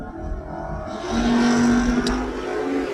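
Foot-brake drag racing cars sit at the start line, engines rumbling low before one revs up into a loud, rising whine that holds steady, with a brief sharp burst partway through; no one talks.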